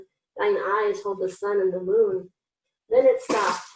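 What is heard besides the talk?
sneeze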